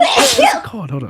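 A person lets out a single sharp sneeze up close during a live podcast, with a brief bit of talking right after.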